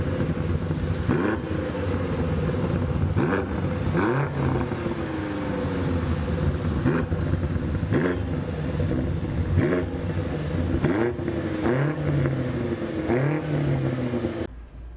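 BMW M8 Competition's 4.4-liter twin-turbo V8 with an 8-speed automatic, revving repeatedly in sharp rising bursts over a steady loud engine drone, close and continuous with no talking.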